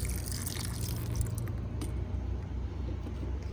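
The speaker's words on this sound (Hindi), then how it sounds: "अब इसके ऊपर आप थोड़ा सा और पानी डाल दें" Water poured steadily onto the soil around a betel vine cutting, a continuous close splashing trickle that holds even from start to finish, with no talking.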